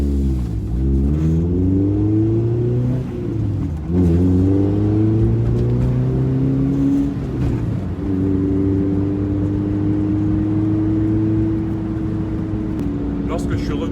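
A Honda DC2 with no muffler revs loudly and continuously up close, its raw engine note climbing and falling through several throttle blips over steady droning, with a voice talking over it.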